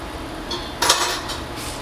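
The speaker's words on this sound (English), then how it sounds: "I'm gonna use the back side of the spoon now." A spoon's back scrapes and clinks against a pan of frying rice and mushrooms, giving a couple of short metallic scrapes near the middle, close and fairly clear, with no talking.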